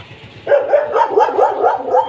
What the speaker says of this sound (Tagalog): Grabe po talaga ang mga aso.